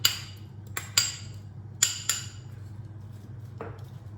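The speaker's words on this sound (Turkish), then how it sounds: "Şimdi tüm malzemelerimi birbirine karıştıracağım." A utensil clinks sharply against a bowl several times in an uneven rhythm while chopped celery and apple are mixed for a salad, followed by a softer dull knock in an otherwise quiet room.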